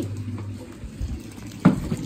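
Cold water running from a tap, a close, steady splashing flow with a brief louder gush near the end, no voices.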